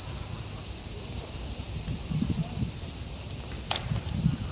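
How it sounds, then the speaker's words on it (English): Cicadas buzz in a dense, steady drone on a summer evening in a Tokyo residential area near the Tamagawa river, loud and continuous, with faint footsteps and rustling underneath. "These are cicadas. They're very noisy."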